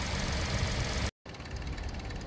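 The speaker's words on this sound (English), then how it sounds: "this thing's only idling at like 400 RPM" A car engine idles very low, around 400 RPM, with a steady dull rumble and faint knocking vibration, broken by a brief dropout before resuming at the same quiet, even level.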